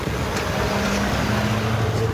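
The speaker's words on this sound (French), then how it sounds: "ce joli son là, les 8 américains en Ford Mustang" Low rumbling engine note from classic American Ford Mustang V8s at a vintage car gathering, a steady continuous drone with a faint higher tone rising in the middle, heard outdoors at moderate distance.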